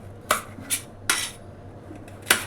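Vegetables are cut for a curry in a home kitchen, four sharp knife strikes on a board spaced unevenly over a couple of seconds, close and clear with no talk.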